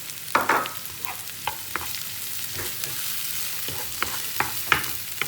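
Onions and green chillies sauté in a pan for an egg drop curry, a soft steady sizzle broken by a series of sharp spoon scrapes and taps against the pan at irregular intervals, close and alone.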